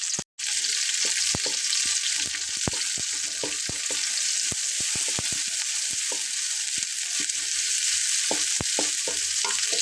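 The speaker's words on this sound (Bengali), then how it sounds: "পেঁয়াজটাকে আমি একটু হালকা পাতলা নেড়ে ছেড়ে নিচ্ছি।" Chopped onions and whole cumin seeds sizzle steadily in hot oil for an okra dish, with frequent sharp clicks and scrapes of a spatula stirring the pan throughout.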